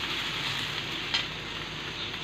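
Raw jackfruit curry masala being sautéed in a pan, a steady close sizzle with a single brief scrape of a spoon partway through.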